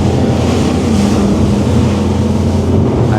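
The Scanner Envy 1100 inboard motorboat crosses waves at sea, its engine a loud, steady roar blended with rushing water and wind, unbroken throughout with no talk.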